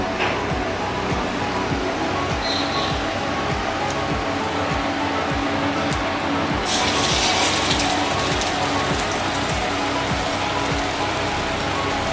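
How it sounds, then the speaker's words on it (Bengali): Pumpkin flowers dipped in batter fry in hot oil for Bengali fritters, a steady loud close sizzle and crackle that runs unbroken throughout, with a brief brighter hiss partway through. "এবার আমি একটা করে ফুল নিয়ে ব্যাটারে ডুবিয়ে ভেজে নেব।"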